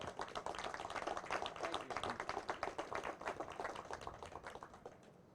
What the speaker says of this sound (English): let's give another round of applause for them right now